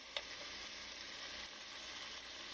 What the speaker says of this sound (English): I'm just going to fry it up in a little bit of olive oil